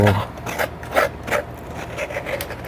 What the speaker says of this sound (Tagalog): Kailangan natin kayurin pa.